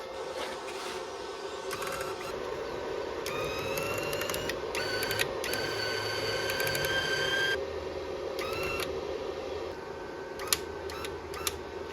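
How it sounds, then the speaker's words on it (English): Harbor Freight Titanium Flux 125 welder cold-feeding wire, a steady motor whir and hum with intermittent high whines and clicks as the drive wheel pushes wire, close and continuous. "This button right here is the cold feed button. That will feed our wire without the machine being ready to weld."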